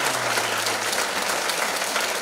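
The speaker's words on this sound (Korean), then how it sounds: "우리 힘차게 박수 한번 하겠습니다." A church congregation at an evening revival service applauds vigorously, steady dense clapping filling the room from start to finish with no pauses.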